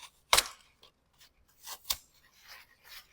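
Scissors snipping through material while assembling thrifted vintage holiday decor, a few sharp close cuts with short pauses between, nearby and clear.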